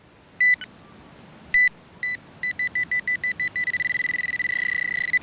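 A metal detector sounds over a buried target in old black topsoil, giving short electronic beeps, then a steady run of evenly spaced tones that merge into a held ringing tone, clear and close.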